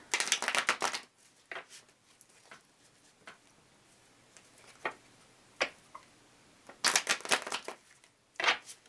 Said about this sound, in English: I'm being told to shuffle them one more time.